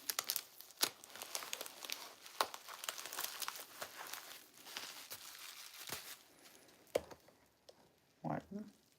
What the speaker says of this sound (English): I'm almost unwrapping this up.